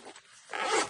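Zipper on the pocket of a handmade sewn bag being drawn open, a short soft pull followed by a louder, longer scratchy zip, close up with no talking.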